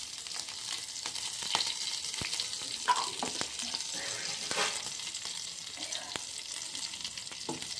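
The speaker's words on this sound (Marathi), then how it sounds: "टाकली मोहरी आणि हे टाकलं लसूण मिरच्या" Mustard seeds, garlic and green chillies sizzle steadily in hot oil, a continuous bright crackle with scattered sharp pops and occasional stirring clinks, with no talking throughout.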